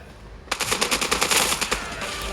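Automatic gunfire in the mobile shooter game Standoff 2 begins abruptly as a rapid, sharp burst of evenly spaced shots, loud and continuous for about two seconds.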